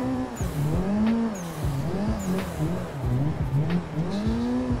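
Race car drifting in Assetto Corsa with left-foot braking, the engine revving up and down in close, loud waves and tire squeal mixed in as the throttle is blipped repeatedly.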